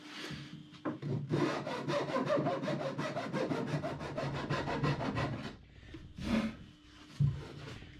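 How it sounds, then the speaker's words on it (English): Hand file rasping back and forth inside a boat's wooden center case, a fast steady run of strokes for several seconds, then a pause and a couple of final strokes, no voices. "Start filing."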